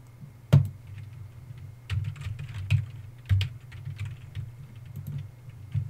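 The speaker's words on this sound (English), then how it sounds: "let me type in this album real quick" Keys clatter on a computer keyboard in a short burst of typing, with a few louder strokes standing out against a steady low hum, close and alone with no talking.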